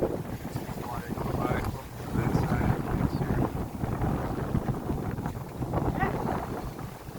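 Wind roars over a sailboat under way on a chilly morning, a rough, gusting rush that swells and fades against the microphone, with a voice speaking faintly beneath it.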